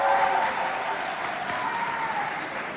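Audience applause for a female singer at a school performance event pitting Collège Abdoulaye Moussa against Collège Félix Eboué, a steady dense wash of clapping from a crowd, loud throughout without letup.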